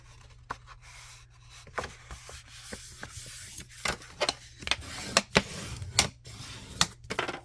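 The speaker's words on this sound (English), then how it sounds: "And we are going to fold it in half" Paper folded in half for a handmade Christmas mini album, close by: quiet creasing and rubbing scrapes build into a series of sharper taps and presses toward the end, with no talking.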